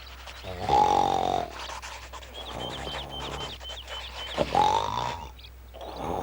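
A creature sits in a cartoon forest snoring, two long, loud, rumbling snores with growly grunting breaths between them, close up, framed by sustained music.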